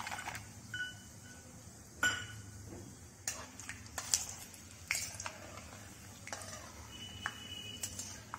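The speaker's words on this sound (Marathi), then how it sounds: "आपण आता यात शेंगदाणे घालून छान परतूया." Peanuts fry in hot oil while being stirred for Khandeshi vanga bharit, with a soft steady sizzle under scattered close clinks and scrapes of a spoon against the pan.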